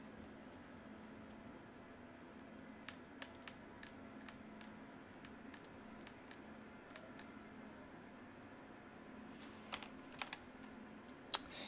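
Scattered individual keypresses on a computer keyboard, the F3 key among them, land as light clicks over a steady background hum, growing sharper and louder near the end.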